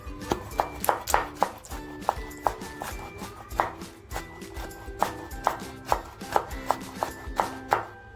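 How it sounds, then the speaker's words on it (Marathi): Knife chopping tomatoes finely on a board, a fast run of sharp close taps in an uneven rhythm, with faint background music underneath. "टॅमॅटो पण बघा आपल्याला अगदी बारीक कापून घ्यायचे"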